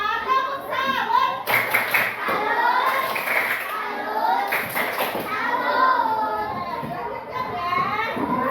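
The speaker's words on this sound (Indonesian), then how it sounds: "kita tepuk salut untuk kelas 4" Class of fourth-grade children clapping a rhythmic salute in a classroom, bursts of claps mixed with excited kids' voices and a teacher talking, close and lively throughout.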